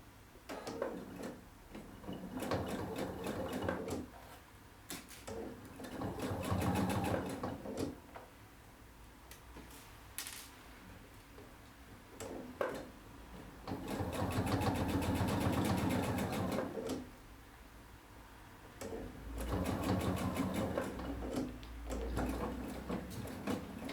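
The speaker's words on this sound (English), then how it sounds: "sew this edge and backstitch in the end" A sewing machine stitches along the edge of a robe in several runs of rapid, even mechanical ticking, each lasting a few seconds with quieter pauses between, at close range and without talking.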